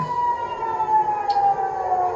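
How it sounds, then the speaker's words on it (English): An air raid siren warning of incoming Iranian ballistic missiles wails steadily at a distance, holding one sustained tone over a constant background rumble. "You can hear those sirens blaring behind me"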